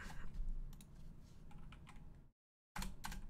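Fingers type on a computer keyboard while code is written, producing close, quiet bursts of key clicks, then a brief silent gap before more rapid keystrokes.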